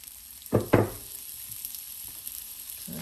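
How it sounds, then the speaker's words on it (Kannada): Chopped onion hits hot oil for a chayote gravy, giving two sharp, close sizzling bursts in quick succession before a quieter, faint crackle settles in. "ಸೊ ಇದನ್ನು ಸ್ವಲ್ಪ ಚೆನ್ನಾಗಿ ಎಣ್ಣೆ ಹುರ್ಕೊಳ್ಳೋಣ."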